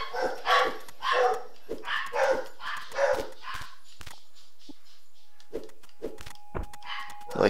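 Several dogs bark nearby in bursts of sharp, loud woofs through the first half. Quieter, scattered barks and yips follow with pauses in between.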